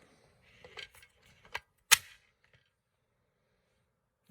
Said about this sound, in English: So, bolt release, and goes home.